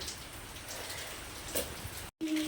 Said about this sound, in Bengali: এই যে বন্ধুরা বৃষ্টি পড়ছে খুব সুন্দর